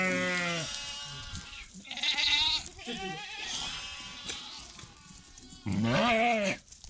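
Several goats bleat in turn, loud and close in a livestock pen, with wavering cries overlapping and brief pauses between them.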